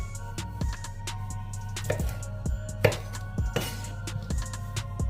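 A knife rough-chops vegetables on a board in a home kitchen, giving quiet, irregular thuds and clicks in short bursts with brief pauses between strokes.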